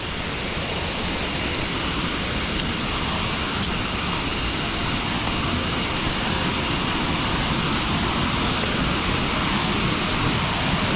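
Hin Lad waterfall on Koh Samui, Thailand, tumbles over granite slabs in a steady, dense rush of white water. The sound is close and continuous, with no voices over it.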